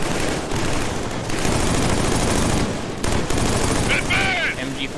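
A mounted MG42 machine gun in the video game Killzone 3 fires in a dense, loud continuous burst, with brief pauses and a voice speaking near the end.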